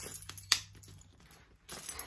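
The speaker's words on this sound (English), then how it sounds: "Keys." Keys set down with a sharp metallic click against a magnetic bag holder, followed by light jingling and a second clatter near the end; close and brief, no talking.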